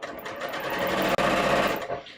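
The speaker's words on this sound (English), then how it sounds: "I'm now going to sew my sleeve on here." Sewing machine stitching a sleeve onto a bodice draft, a steady continuous whir running loud and close, with one split-second stop partway through before the motor picks straight back up.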